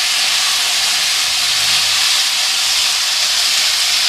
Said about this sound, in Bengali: কেটে রাখা টমেটোগুলো দিয়ে দিলাম।